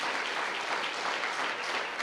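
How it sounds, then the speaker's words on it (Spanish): Church congregation claps together in a continuous, even burst of applause, a bright crackle of many hands filling the room without speech. "Denle un aplauso al Señor"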